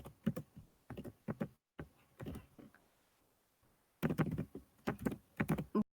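Bursts of computer keyboard typing as code is written, clusters of quick close key clicks separated by short pauses, with no voice.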